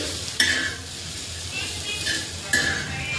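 Radish pods frying in oil until reddish, a steady close sizzle with two sharp scraping stirs of the pan, no voices.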